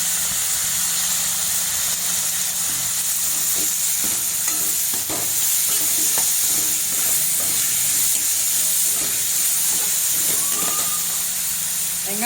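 Tomatoes and onions sautéing in a pan for egg kurma, giving a steady close sizzle and hiss with scattered stirring scrapes and clicks throughout, no voices.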